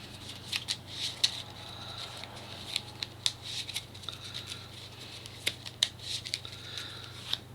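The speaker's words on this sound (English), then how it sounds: "Time to shuffle." A deck of playing cards is shuffled for a tabletop card game, producing quiet, close riffling and patting snaps in irregular bursts against a low background hum.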